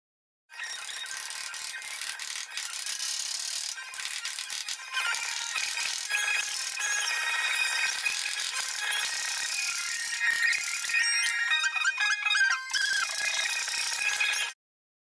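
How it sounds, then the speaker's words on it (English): Electric shears cutting through 20 gauge sheet steel on a 1930 Ford Model A cowl, a continuous high rapid chattering buzz with rattling metal, close and steady for about fourteen seconds. "I'm going to use my electric shears to cut that section free"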